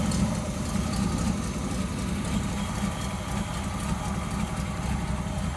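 A 1967 Chevy El Camino engine runs steadily as the car drives out, a low continuous rumble with a faint idle-like beat, heard alone at moderate distance.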